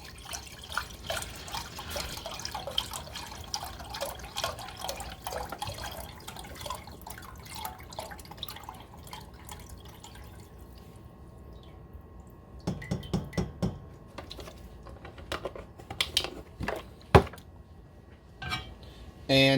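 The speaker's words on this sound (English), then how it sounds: "we're going to pour the chicken stock into the pot" Chicken stock poured into a cooking pot for risotto, a soft continuous liquid splash and trickle for the first stretch, then settling into scattered drips and a few close clinks against the pot.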